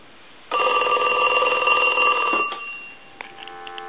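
A Snoopy and Woodstock novelty telephone, just repaired, rings its bell loud and close in one sustained burst lasting about two seconds, which then fades, followed by faint clicks.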